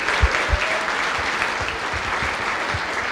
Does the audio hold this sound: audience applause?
yes